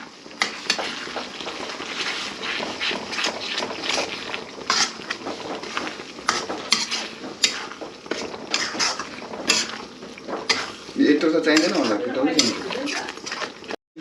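Momo filling and chilli are mixed in a bowl, with wet squelching, stirring and occasional clinks of utensils against the dish, heard close under frequent talking.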